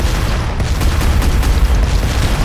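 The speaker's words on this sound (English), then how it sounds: "Without further ado, here is the explosion show" A ship blowing up under missile strikes in the video game Space Engineers, heard as a loud, continuous rumbling roar of explosions that fills the whole moment.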